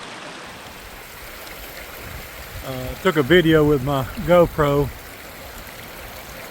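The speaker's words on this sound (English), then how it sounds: "creek coming off the lake. Small creek feeding into it." A small creek flowing off a lake along the Pinhoti Trail, a steady soft rush of trickling water heard throughout, with someone briefly talking over it midway.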